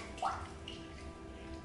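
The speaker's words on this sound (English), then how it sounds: "Just putting a bit more water" Water poured or splashed from a tap during a wet shave with a brush, a brief faint splash followed by a quiet trickle, alone with no talk.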